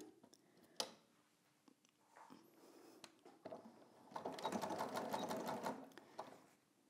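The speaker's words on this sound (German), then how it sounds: "Und dann nähen wir bis zu dem Punkt und dann auch darüber hinaus." A domestic sewing machine stitching a dart in a dress, soft clicks and short runs giving way to a steady whirring burst of stitching near the end, fairly quiet and close.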